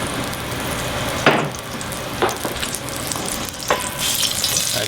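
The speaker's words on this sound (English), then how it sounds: "There's a little water in there, that's why it's sizzling." Steady hot sizzling of oil with a little water in it in a pan while making stir-fry noodles, with a few sharp utensil taps and stirring scrapes scattered through.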